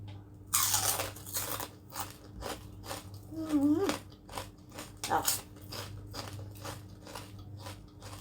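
Crunchy food bitten and chewed close to the mouth, a burst of loud crisp crunches early on followed by steady rhythmic chewing over a low background hum, with a brief vocal sound partway through.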